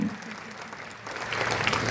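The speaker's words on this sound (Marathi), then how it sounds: "एकदा जोरदार टाळ्या त्यांच्यासाठी होऊन जाऊ द्यात" Applause from an audience at a tribal gathering in Beed, beginning as a moderate clatter and swelling louder toward the end, with a voice heard faintly beneath the clapping.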